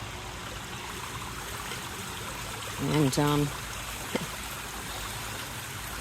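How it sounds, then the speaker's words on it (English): A stream runs beside a hiking trail on Bull Hill above the Hudson River, a constant soft wash of trickling water throughout, briefly overlaid by a short spoken word. "the water doesn't stop"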